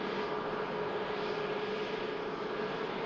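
An EasyJet airliner arriving from Amsterdam taxis past at an airport, giving off a steady, moderately distant jet engine whine and roar that holds even throughout, with no voices.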